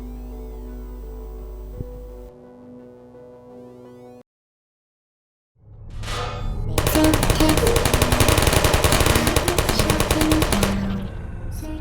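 Automated turrets in the video game Portal open fire in a long rapid burst of gunfire, loud and dense, after a quieter humming stretch and a brief silence.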